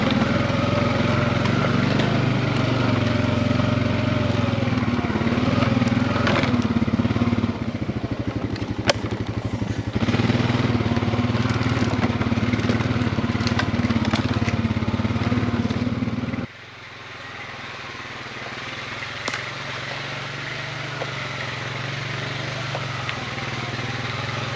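A Honda ATV quad running through a snowy winter forest, its engine droning steadily and close with some clattering, then dropping to a quieter, lower hum partway through.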